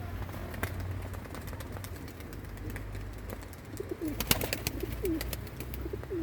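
Tumbler pigeons coo softly in short repeated calls over a steady outdoor background rumble, with a few sharp clicks and rustles nearby.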